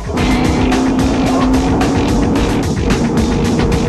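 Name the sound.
rally car driving fast on hard pack, Dakar rally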